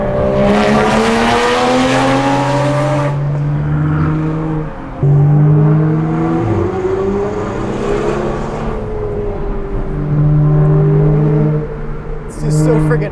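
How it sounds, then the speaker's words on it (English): McLaren 650S fitted with a 675LT-style center exit exhaust, driving in a rally convoy; a loud, sustained engine drone with shifting pitch and gear changes runs throughout, with people talking over it. "This 650S has like a 675 LT center exit exhaust."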